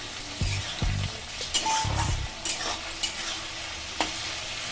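Tomato dropped into hot oil with dried chillies and bay leaf in a pan, loud sizzling with several thuddy stirring knocks and scrapes early on, close by, no voices.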